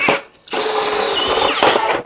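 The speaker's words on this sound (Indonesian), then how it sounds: "kita akan bor ukuran 10 mili, variable speed 1. Saya akan lubangin, memperbesar ya bekas baut ini." A DongCheng DCJZ2040i13 brushless cordless impact drill, set to speed 1, bores a 10 mm hole in light steel to enlarge an old bolt hole. It whines loudly up close, pauses briefly, then grinds steadily through the metal.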